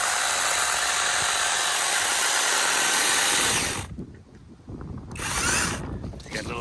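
A cordless chainsaw runs loud and steady at full throttle for nearly four seconds, then cuts off and gives a couple of shorter, fainter bursts.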